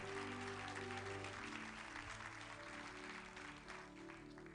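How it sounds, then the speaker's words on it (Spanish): Church congregation applauding in praise during a sermon, a dense steady wash of clapping that holds for the full stretch over a low sustained tonal hum. "Denle un aplauso a Dios por eso"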